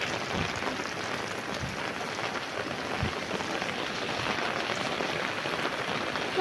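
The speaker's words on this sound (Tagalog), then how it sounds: "It's raining." Rain falls steadily outside, a dense, even hiss of drops on surfaces with a few sharper patters, continuous and fairly close throughout with no talking.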